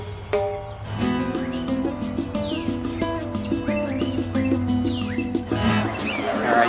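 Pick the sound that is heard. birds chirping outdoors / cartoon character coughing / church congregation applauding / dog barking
birds chirping outdoors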